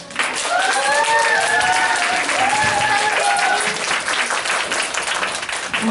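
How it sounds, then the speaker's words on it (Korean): Sustained applause from a seated audience after a cosmetics lecture, steady and fairly loud, with a voice talking over the clapping in the first half. "다시 한번 큰 박수 부탁드립니다"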